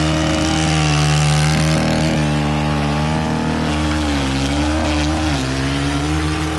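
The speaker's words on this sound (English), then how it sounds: "Max is using the Combi KM131 with the bed redefiner" A Kombi KM131 engine drones steadily and loudly while its bed redefiner attachment cuts a fresh edge into a landscaped mulch bed. The motor's pitch dips and rises slightly as the blade bites.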